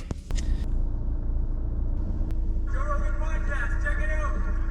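Steady low road rumble from inside a car on a long drive up to the Lakes, continuous and fairly loud, with faint tonal sounds rising over it in the second half.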